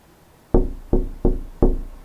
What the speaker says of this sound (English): I tried to get his attention by knocking on the glass.